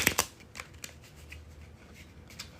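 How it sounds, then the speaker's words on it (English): A deck of cards is riffled together in a quick bridge shuffle burst, then softer taps and rustles as the cards are squared up, close by. "I'm about to do the bridge shuffle"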